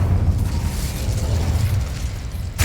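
A fire spell cast in the video game Hogwarts Legacy, a sustained low rumbling roar of flames lasting a few seconds at steady loudness, ending with a brief crackling burst.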